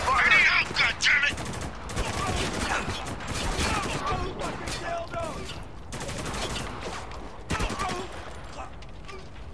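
Heavy gunfire and bursts of automatic fire in the war shooter Spec Ops: The Line, loud and near, with shouted voices breaking through the dense battle noise.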